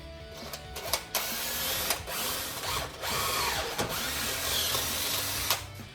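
Power drill boring two mounting holes plus a centre hole through a metal bracket in the engine compartment of a 1970 Westfalia camper van, a steady close whine broken by brief pauses and bursts, with no talk.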